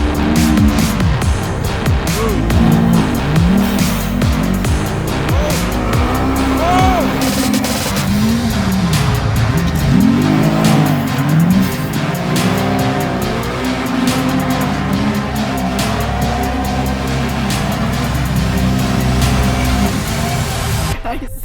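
Race cars roaring around a track in a battle between two brothers, engines droning and pitch sweeping as they pass, with tire squeals mixed in and people talking nearby.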